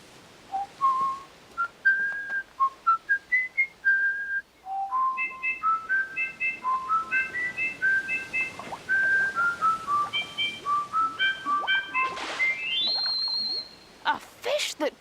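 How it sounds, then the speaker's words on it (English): Melodic whistling tune of a whistling fish in an undersea setting, a rising and falling run of clear, sustained notes in quick phrases, fairly loud and close, with no talk over it. "A fish that can whistle."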